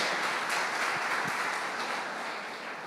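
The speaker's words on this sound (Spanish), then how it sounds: "Dale un aplauso al Señor" Church congregation applauding during a Spanish-language worship service, a steady dense wash of clapping heard from within the room, holding level for a few seconds and easing slightly toward the end.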